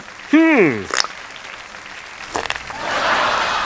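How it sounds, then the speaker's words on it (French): Studio audience applause on a French-language cartoon quiz show swells up near the end, a broad, moderately loud wash of clapping that follows a short voiced exclamation and a couple of sharp cartoon effects. "c'est Chantal qu'on applaudit très fort"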